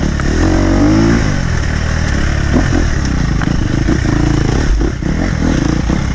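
A motorcycle on a rough mountain trail in the Sudetes runs a Michelin Medium rear tyre, the engine loud and close as it churns along, with clattering and scraping over rocky ground.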